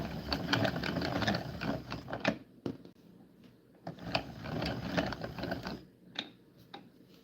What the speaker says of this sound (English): Oh, you have the same yarn winder too, Bella.